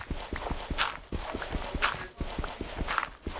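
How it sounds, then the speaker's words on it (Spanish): Steady clip-clop of horse hooves in a survival video game, evenly spaced thuds at a walking pace, close and fairly clear, with no talk over them. "Es un caballo."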